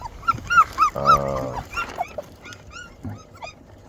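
Livestock guardian dog puppies whimper and yip in high, squeaky bursts, with a short growly bark in the middle, fairly close and intermittent.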